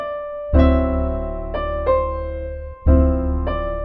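Opening three bars of a jazz standard, played as sustained harmonic chords with a strong low bass, in three or four phrases restruck at intervals, clear and fairly loud with no talking.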